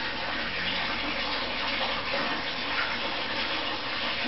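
Cold water flowing into a wall-mounted combination boiler under repair, a steady, even rush like a running tap, moderately close and continuous with no talk.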